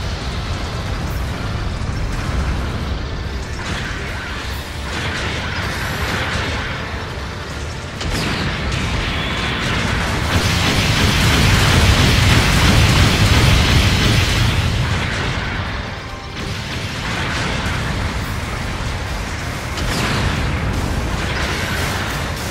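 Supporting artillery fire in the game Gundam Battle Operation 2, a long rumbling barrage of explosions that swells louder midway, then eases and rises again, no talking.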